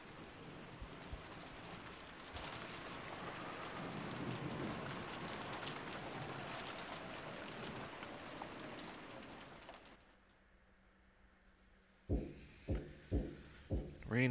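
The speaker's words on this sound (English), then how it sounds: "Rain has not let up." Steady rainfall with a low rumble in the Umineko: When They Cry visual novel, then a brief hush before a series of sharp, loud thumps.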